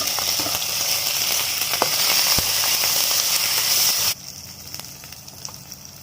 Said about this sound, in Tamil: கருவேப்பிலை, பூண்டு, வெங்காயம், நெத்திலி, சில்லி பாடி போட்டு நம்ம தாளிச்சிக்கலாம்